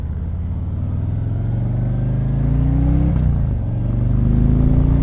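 A 2018 Harley-Davidson Street Glide engine rumbles steadily up close, its deep idle briefly dipping then rising again as the throttle is blipped.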